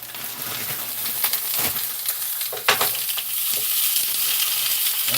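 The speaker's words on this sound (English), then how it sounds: "listen to the sizzle." Steady crackling sizzle of chicken wings frying in a hot pan, with occasional pops and stirring scrapes, no voices.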